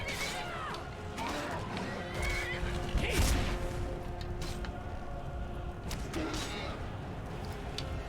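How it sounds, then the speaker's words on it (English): Horse whinnying during a fight in Skyrim, several high rising neighs against a dense backdrop of game combat sounds, fairly loud, with a voice talking over parts of it. "is my horse still fighting?"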